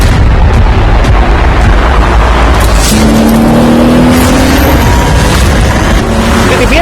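BMW M4 drifting, its engine a loud continuous roar with a rising whine, heavy rumbling and booming bursts filling the whole stretch without a break.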